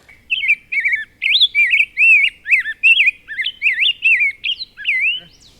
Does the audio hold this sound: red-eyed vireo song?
yes